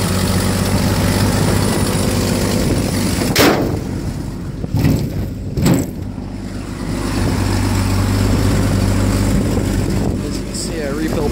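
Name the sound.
Stovebolt engine idling after cold start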